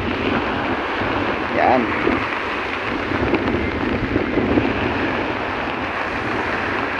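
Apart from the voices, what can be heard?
strong wind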